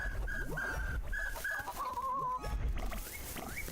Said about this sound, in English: Come on, birds, this way now.